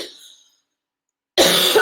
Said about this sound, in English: Sorry, I still have a little bit of cough.